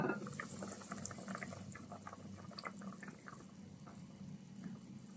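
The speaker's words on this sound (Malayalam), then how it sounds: "ഒക്കെ നല്ലോണം തിളച്ച് വന്നിട്ടുണ്ട്" Chicken for Arabic chicken haneeth boils in a covered pot on medium flame, a quiet close bubbling with irregular small pops and gurgles that go on steadily.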